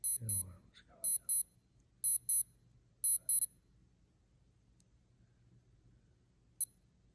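A Casio G-Shock DW-5600C digital watch alarm sounds in four quick bursts of high, thin double beeps at a steady one-second rhythm, then a single faint beep follows after a quiet pause.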